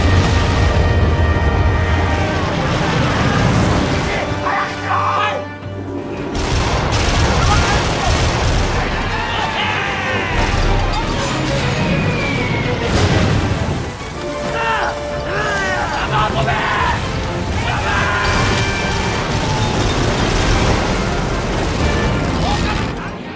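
Naval battle: heavy gunfire and booming explosions roar continuously, with dense cannon blasts and crashes layered into a loud, chaotic battle din.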